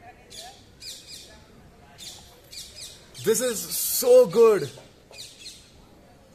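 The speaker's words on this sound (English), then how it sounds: "the sounds of these many birds coming" Several birds chirp and call in quick bursts, with a louder squawking call in the middle, while a person talks over them.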